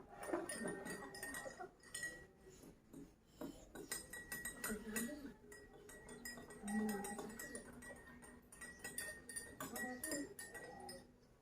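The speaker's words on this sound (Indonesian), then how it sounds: "Ini itu diaduknya agak kencang nih." A spoon clinks against a glass while a mixture is stirred in a classroom, quick irregular bright taps coming in bursts, fairly faint, with children and voices murmuring around it.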